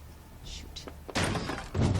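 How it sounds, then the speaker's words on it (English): A door shutting in The Wolf Among Us video game: a heavy thud lands after some quieter knocks and rustles, followed by another loud bump. "I heard a door shut"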